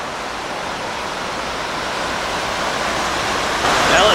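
Water rushing steadily down a fish ladder on the Delaware Canal, a broad, continuous roar that is loud and close, swelling slightly toward the end.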